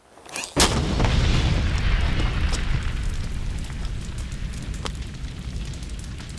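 A petrol can set under a petrol tank bursts in a desert-raid demonstration, one sudden loud blast followed by a long, roaring rumble of fire and debris that slowly fades, with no talking.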